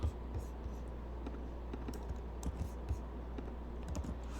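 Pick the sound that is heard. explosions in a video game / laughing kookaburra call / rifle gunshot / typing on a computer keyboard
typing on a computer keyboard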